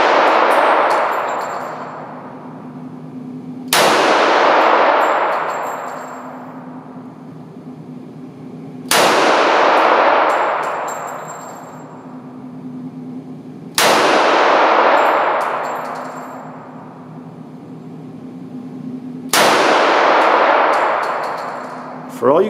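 Four evenly spaced loud metallic clangs of .45 ACP rounds from a 1911 pistol striking steel targets at an outdoor shooting range, each ring decaying slowly over several seconds.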